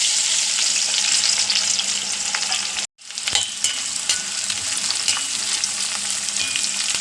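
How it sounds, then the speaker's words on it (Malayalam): Small onions frying in oil in a pan give a loud, dense crackling sizzle. It cuts out abruptly for a moment near three seconds, then resumes just as busy with sharp pops. "അപ്പോൾ ചെറിയ ഉള്ളി വറുത്തെടുക്കട്ടെ"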